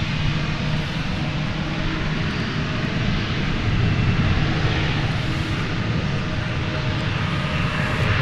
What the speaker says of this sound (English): Boy, so many planes.